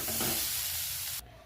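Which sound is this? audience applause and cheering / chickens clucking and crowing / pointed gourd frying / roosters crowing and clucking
pointed gourd frying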